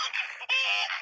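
A chicken in the WildCraft animal simulator video game gives a short, nasal squawking cry lasting about a second, alone and fairly close.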